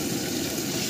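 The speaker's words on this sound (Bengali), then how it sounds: "এদিকে মাছ ভাজা চলছে" Fish frying in oil during an outdoor family picnic on Christmas Day: a brief, dense, constant sizzle heard up close.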